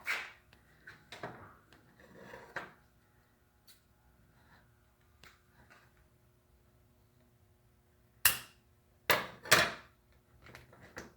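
The marked piece for a Cub Scout toot horn is cut in a few sharp, isolated cracks and snaps, some spaced seconds apart and a cluster near the end, against a quiet room.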